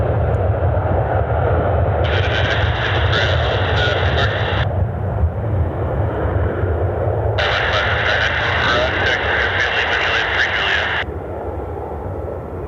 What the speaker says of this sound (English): Delta's still rolling down the runway